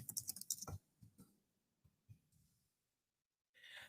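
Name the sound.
typing on a computer keyboard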